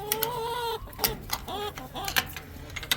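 Chickens cluck and squawk in a coop in the morning, several birds calling in short overlapping bursts close by.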